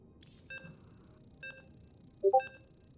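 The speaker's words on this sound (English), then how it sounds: "Oh, notification went off. Everybody check their Discord." A Discord notification chimes several times: a few short, faint electronic pings, then a brighter, louder two-note blip near the end, against a quiet background.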